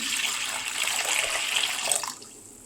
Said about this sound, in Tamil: உப்பு போட்டு இதில் ஒரு 1/2 லிட்டர் தண்ணி ஊற்றிக்கலாம்